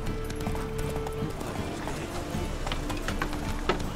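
A horse gallops in The Witcher 3 video game, its hooves making a steady, close clip-clop rhythm over game ambience.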